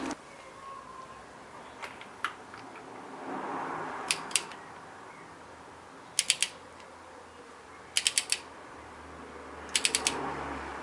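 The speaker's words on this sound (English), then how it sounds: "I'll get that now and I'll torque them all down." A torque wrench tightening spark plugs in a 1968 MGC engine, giving sharp clicks in short groups of two to four, spaced a couple of seconds apart, close by against quiet room tone.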